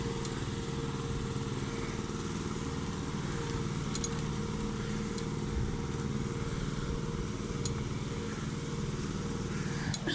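A small motorbike engine drones steadily and fairly close throughout on a street, with a buzzing, putt-putting tone that stays constant in level.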